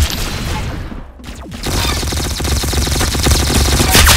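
Rapid gunfire bursts in the Arsenal video game, loud and close, with a short pause before sustained automatic fire resumes.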